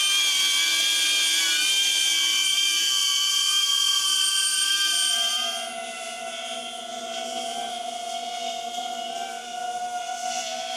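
A DJI Avata drone's propellers whine loudly and steadily nearby, a sustained high-pitched buzz with layered tonal harmonics that shifts pitch and drops slightly in level midway through.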